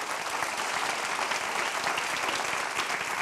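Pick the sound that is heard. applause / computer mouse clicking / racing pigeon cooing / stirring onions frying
applause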